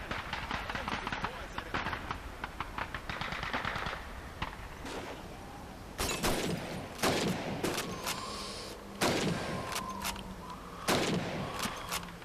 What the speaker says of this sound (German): Schießen Sie auf die Flasche.